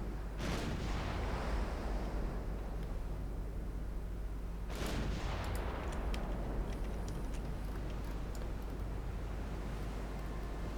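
Two heavy booms from 11-inch naval guns in the naval warfare game Ultimate Admiral Dreadnoughts, each a loud broadband blast a few seconds apart, with a low rumbling hum continuing between and after them.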